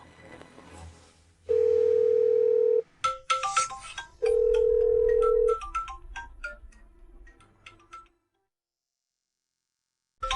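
A phone's outgoing ringback tone sounds twice in long steady beeps while calling a company director, with faint indoor rustling between the tones before the line falls silent.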